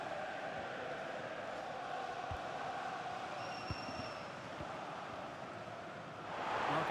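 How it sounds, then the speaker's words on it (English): Steady roar of a football stadium crowd in a Newcastle United career-mode match of a soccer video game, a continuous broad wash of massed voices with a few low thuds, swelling slightly near the end. "just listen to this crowd"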